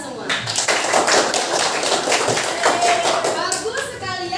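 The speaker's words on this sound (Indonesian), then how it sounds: "tepuk tangan buat kita semua" Schoolchildren clap together in a junior high classroom, a loud burst of hand claps lasting several seconds before it thins out, with young voices chattering underneath.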